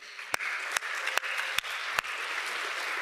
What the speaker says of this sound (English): students, I'd also like you to give your parents a round of applause